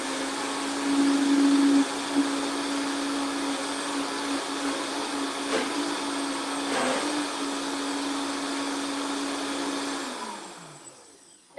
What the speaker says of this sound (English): I'm just going to puree this for 1 or 2 minutes